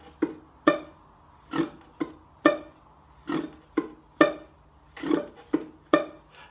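A ukulele played clawhammer fingerstyle at a slow tempo: separate plucked and brushed strums in an uneven up, down, out rhythm, close and clear, with no talk.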